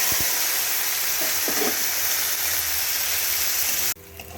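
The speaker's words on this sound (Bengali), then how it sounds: "এবারে যে পেস্টটাকে বানিয়ে রেখেছিলাম সেই পেস্টটাকে ঢেলে দিলাম" Ground spice paste hits hot oil already tempered with a dried red chilli, a cardamom pod and a bay leaf for a vegetarian cauliflower curry, giving a loud, steady, close hiss that cuts off abruptly near the end.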